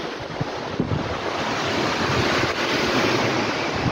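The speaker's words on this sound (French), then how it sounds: "il y a beaucoup de vent" Strong wind roars steadily against the microphone, a dense, unbroken rush of buffeting noise with no voices.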